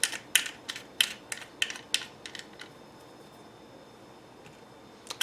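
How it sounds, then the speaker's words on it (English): Cocking handle being unscrewed from a GSG MP-40 .22 rifle, a rapid series of close, crisp metallic ratcheting clicks that stop after about three seconds, followed by quiet. "you unscrew this cocking handle"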